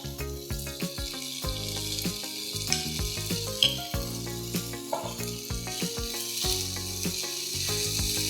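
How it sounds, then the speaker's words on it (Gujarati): Chopped onion sizzles as it goes into dabeli masala in a pan. The hiss is steady and close, and background music plays over it. "ડુંગળી નાખી દઈશું."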